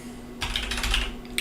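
Quick bursts of typing on a computer keyboard with ghosting keys, a close clatter of several rapid keystrokes followed by a short pause and a final tap, over a faint steady hum.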